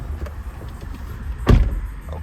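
Door of a Land Rover Discovery 2.0 SD4 HSE diesel SUV shutting with a single solid, close thud amid quiet cabin hum.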